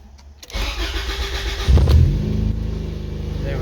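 Car engine on its first drive cranks and fires, surges into a louder rev, then settles into a steady, rumbling idle, close and loud, with no talking.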